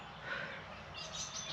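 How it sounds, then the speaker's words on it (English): Blue tits chirping in a garden in May, a few faint, high tweets over a soft outdoor background. "Those are, I think, blue tits, not great ones."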